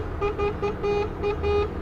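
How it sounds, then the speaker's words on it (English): A truck horn toots about five or six short repeated blasts at night, moderately distant over low traffic rumble. "we've got a truck tooting at us"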